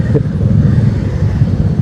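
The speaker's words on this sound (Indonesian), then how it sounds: "Ternyata udah macet ya." Morning traffic jam rumbles around a Shogun 125 SP motorcycle rider during Ramadan, a dense steady drone of idling and creeping engines up close with no talking.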